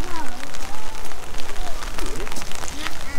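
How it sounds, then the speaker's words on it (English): Rain pattering down at an outdoor wildlife park, close, loud and uneven, with voices talking over it. "Guess what? Raining again."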